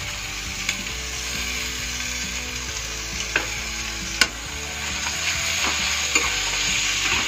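Three chopped tomatoes go into a pan of frying onions for a paneer meal-maker curry, giving a steady loud sizzle with scattered stirring scrapes and clicks of a spatula against the pan.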